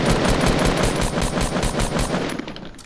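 Rapid automatic gunfire from the Fortnite video game rattles in one continuous burst of fast, evenly spaced shots lasting a few seconds.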